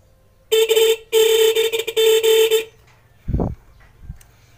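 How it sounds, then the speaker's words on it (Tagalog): Horn of a Motorstar Zest X 110 motorcycle, slightly hoarse, sounds in two loud close beeps, a short one then a longer one, followed by a couple of quiet clunks. "nakita nyo medyo paus lang pero gumagana yung ating busina"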